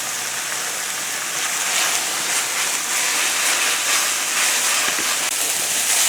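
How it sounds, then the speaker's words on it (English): Wild ramps sautéing in a hot pan for a spring pasta lunch, giving a loud, steady, close-up sizzle that holds evenly throughout with no voices. "now you can see the sauteing taking place here"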